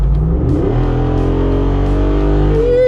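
A 2025 Jeep Rubicon 392 V8 revs hard and loud up close, its engine note climbing and holding steady before cutting off sharply at the end, with no one talking.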